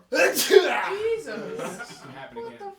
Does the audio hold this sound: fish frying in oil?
no